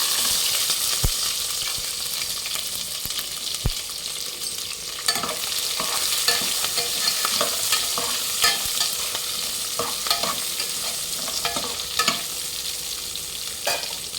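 Sliced onions and green chillies fry in a pan for mutton biryani, a steady close sizzle broken by scraping and clacking as the ladle stirs them repeatedly.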